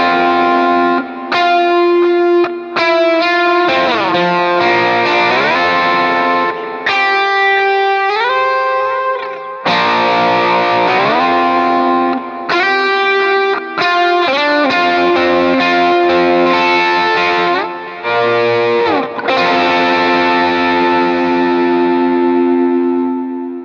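Electric guitar played with a slide through distortion and chorus effects, sustained gliding notes bending between pitches in phrases separated by short gaps, loud and close with no voices.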